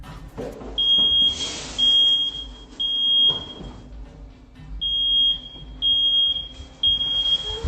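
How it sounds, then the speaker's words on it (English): Fire alarm going off in a room where an oven fire is blazing, a loud high-pitched beeping in repeated bursts with short gaps, no talking. "the fire alarm finally starts sounding off"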